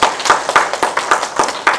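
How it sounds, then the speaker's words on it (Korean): A Korean church congregation claps during its 19th anniversary thanksgiving worship service. The claps are close, sharp and in unison, landing in a quick, regular rhythm of about four per second. "하나님께 영광의 박수를 한번 올려주시면 좋겠습니다"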